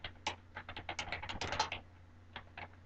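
New group name being typed on a computer keyboard, a quick run of close, crisp key clicks, then a pause and a few final taps, quiet and without talk.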